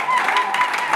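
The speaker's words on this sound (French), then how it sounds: "Applaudissez pour ces 26 candidats." Audience at a gospel music awards competition applauding 26 candidates, a steady wash of clapping that fills the whole brief moment without pause.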